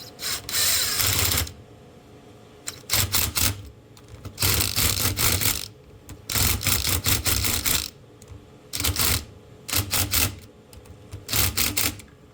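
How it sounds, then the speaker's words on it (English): Ratcheting torque wrench tightening the new top-end cylinder head bolts on a Honda ATC three-wheeler, heard as a series of short, loud mechanical bursts separated by brief pauses, close and with no talking. "we'll torque them down with torque wrench"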